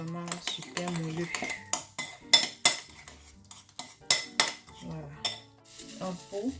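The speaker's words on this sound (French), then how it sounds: "Je mélange bien et je vais laisser poser." Spoon stirring yogurt and a level teaspoon of bicarbonate together in a bowl for a lemon yogurt cake, with a run of close, sharp clinks and scrapes against the bowl.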